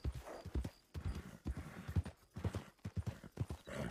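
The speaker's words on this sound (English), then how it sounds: "Why is my horse being angry?" A horse in a video game roleplay clip-clops with rapid, uneven hoofbeats and snorts, restless and agitated, close and distinct, with no talk over it.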